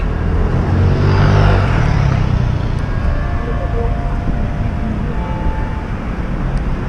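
A car drives through London streets, its engine and road rumble a loud, steady drone from inside the vehicle, swelling slightly near the start and then holding level, with no voices.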